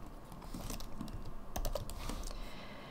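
Keys clatter in a steady run of quick, light taps as code is typed on a computer keyboard during a p5.js programming session, close and fairly quiet, with no voices.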